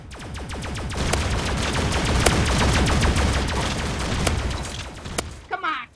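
Rapid shotgun fire in a video game goes off as a dense, continuous barrage of loud booming blasts for several seconds, then cuts out abruptly at the end.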